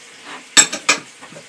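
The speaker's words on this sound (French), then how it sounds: "Donc là, on mélange bien." A utensil clinks and scrapes against a bowl while almond-powder crumble topping for an apple crumble is mixed, with three sharp, close knocks followed by softer stirring.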